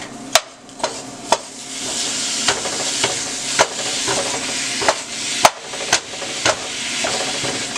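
Steady sizzling of ground beef frying in an old, uneven pan, with sharp scraping and knocking as a utensil stirs and breaks it up at irregular intervals.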